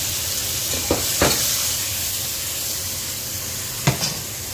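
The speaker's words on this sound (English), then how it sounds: "I'm going to throw some garlic in there." Garlic sizzles in a hot pan with cooked onions, giving a steady hiss of frying throughout, with a few sharp stir or utensil taps standing out.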